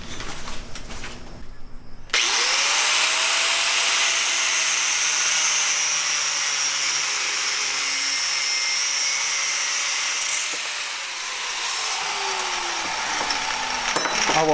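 An abrasive power tool cuts through a German ratchet wrench, starting abruptly and holding a loud, steady high-pitched grinding whine close by for over ten seconds, with slight shifts in pitch and load as it bites into the steel.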